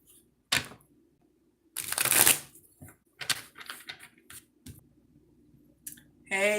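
Oracle cards being shuffled by hand, a few separate close riffling and clicking bursts with quiet gaps between them, no talking.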